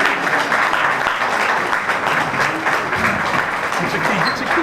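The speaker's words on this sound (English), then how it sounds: "let's all rise and give Doris Carson Williams, the Queen, a round of applause" Dense, steady applause from a large crowd at a Keys to the City ceremony fills the whole stretch, loud and continuous with a faint murmur of voices underneath.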